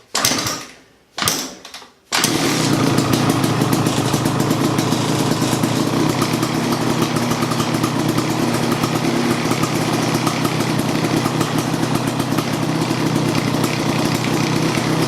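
A KX 250 two-stroke engine in a drag shifter kart bursts into life after a couple of short cranking attempts, then runs loud and steady at a raspy, buzzing idle close by.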